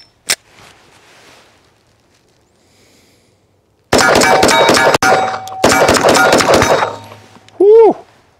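Rapid fire from a new Bul Armory Hunter 6-inch 1911 9mm pistol: two dense strings of fast, loud, sharp reports with a brief gap between them, followed by a person's excited whoop.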